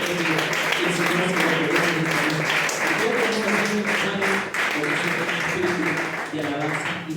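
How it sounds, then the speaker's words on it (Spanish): A congregation at a worship service gives loud, sustained applause to the King of Kings, steady clapping that fills the space, with music or voices faintly underneath. "Y puede dar un fuerte aplauso al Rey de Reyes"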